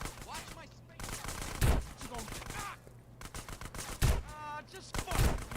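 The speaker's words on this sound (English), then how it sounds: "That was a sniper bullet" Sniper rifle shots fire in GTA San Andreas, with sharp broadband cracks at a few points, mixed with other game noise and speech.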